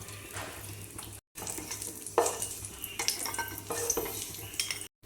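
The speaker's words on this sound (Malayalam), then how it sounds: "കുറച്ച് അണ്ടിപ്പരിപ്പ് ഫ്രൈ ചെയ്തിട്ടെടുക്കാം." Cashew nuts frying in ghee in a pan, a soft close sizzle broken by scraping stirs and light clinks of a utensil against the pan.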